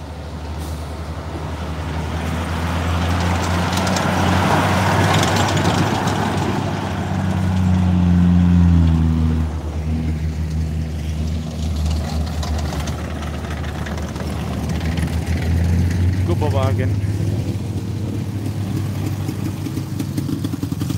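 Military half-track at the Militracks 2019 vehicle show, its engine rumbling loud and close with a steady deep drone that swells and eases as it drives, with no talk over it.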